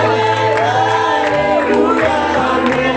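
Congregation at a baptism immersion service cheers and shouts in acclaim, a dense, loud crowd din with whoops over musical tones throughout.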